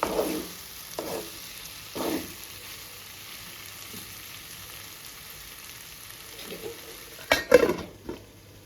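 Bitter gourd masala curry cooking over low heat in a pan gives a soft, steady sizzle. A few clinks of a utensil against the pan land near the start, and a louder cluster of scrapes comes near the end.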